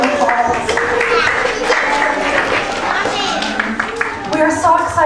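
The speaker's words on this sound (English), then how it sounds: "And applause." A church congregation at a Unitarian Universalist Christmas service applauds to welcome newcomers. The clapping is dense and lively, mixed with cheering voices and chatter throughout.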